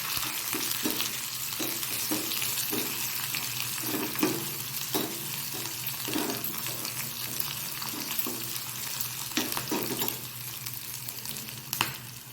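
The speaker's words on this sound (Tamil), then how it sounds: "வெங்காயம் வந்து கோல்டன் ப்ரௌனாலாம் ஆகணும்னு இல்லை ஓரளவு மீடியமாக வதங்கினா போதும்" Chopped onions sautéing in oil in a pan for turkey berry sambar, a constant close sizzle and fry overlaid by rhythmic stirring and scraping strokes from a spoon, with no speech.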